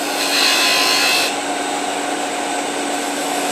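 A skew chisel shears an oblique cut across spinning wood on a lathe, giving a continuous close hiss that is slightly harsher for the first second, then evens out.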